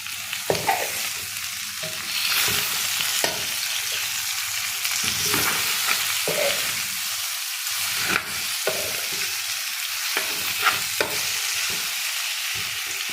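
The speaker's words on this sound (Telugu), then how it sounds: "కాకరకాయ తాలింపు చేస్తున్నాను" Bitter gourd tempering fries in a pan with a continuous close sizzle, broken by repeated scraping strokes of a spoon stirring the pieces, with no talking.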